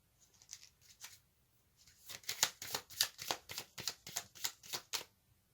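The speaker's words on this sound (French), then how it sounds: "Je vais tirer une carte supplémentaire." A tarot deck is handled and shuffled as an extra card is drawn, with a few soft riffles followed by a quick run of crisp card flicks, close and alone.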